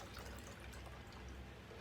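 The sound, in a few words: pouring grapefruit paloma drink into glass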